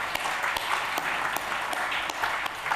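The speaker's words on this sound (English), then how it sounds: "So please congratulate everyone who is a finalist here tonight. I think many of you are here, so we'll give everyone a round of applause earlier now." Steady applause from the audience at the 2016 WA Media Awards for the finalists, a moderately loud continuous wash with a few sharper claps standing out.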